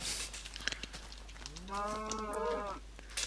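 A cow in the Minecraft video game lets out a single drawn-out moo lasting about a second, clear and moderately close over a quiet background, with no speech.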